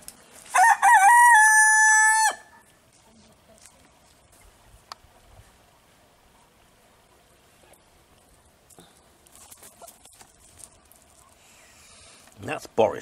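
A rooster crows loudly and close by for about two seconds, followed by quiet with faint scattered clucks and scratching from backyard chickens, then a brief louder cluck at the end.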